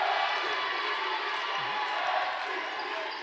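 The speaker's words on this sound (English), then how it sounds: "You hear the pep band cheering on the defense now." A girls' varsity basketball crowd and pep band cheer on the defense in a school gym, a steady roar of voices with sneaker squeaks and other gym noise throughout.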